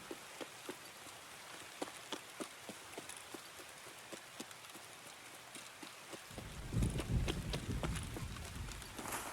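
Rain falling in the video game Escape from Tarkov, a steady hiss of drops with regular thudding steps, growing louder and heavier near the end.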